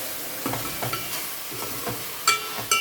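Fish curry with tomatoes stirred in a pan: a spoon scrapes in regular strokes over a soft sizzle, with a couple of sharper clinks near the end.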